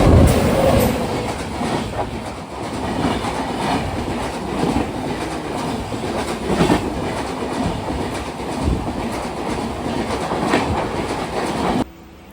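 A Tejas express train thunders past close by for a long stretch, steady roaring with rhythmic clattering of wheels over the rails, then cuts off abruptly.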